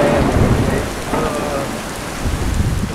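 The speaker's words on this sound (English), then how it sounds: "The winds are 40, the rain is pouring, the lightning's striking." Heavy rain pours over a covered, anchored wake boat during a North Florida thunderstorm with 40 mph winds, a loud, dense, continuous downpour with rumbling thunder and no voices.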